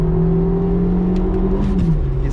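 A 1992 Citroen ZX with a strained, nearly blown engine pushed at full throttle on a highway, a loud steady engine drone heard from inside the cabin, its pitch holding and then dropping near the end, with no talk.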